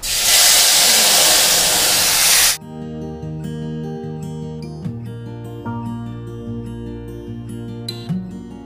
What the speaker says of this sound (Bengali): যে মশলার ঘোলটা তৈরি করেছিলাম, এবার ওইটা দিয়ে দেব।